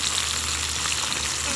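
Chicken breasts sizzle as they brown in a frying pan, a steady, close, continuous crackling hiss with no pauses.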